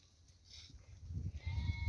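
A sick lamb with seizures bleats on a farm, a faint cry early on followed by louder, rougher bleating near the end, with some low handling noise.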